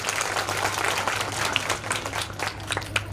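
An audience at a debate competition gives participants a sustained round of applause, dense overlapping hand claps with a few sharper close claps, steady throughout with faint voices mixed in.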